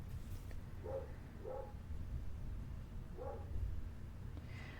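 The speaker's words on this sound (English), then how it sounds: "I'm really sorry my dogs are barking." A few dogs bark in the background, three short muffled barks spaced apart, faint and distant under a low steady hum.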